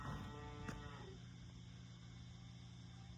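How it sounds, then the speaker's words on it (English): A single cow lows in the distance on a farm during the first hay and silage cut, a steady drawn-out moo over a low outdoor rumble. "what's that noise? I see one cow way up"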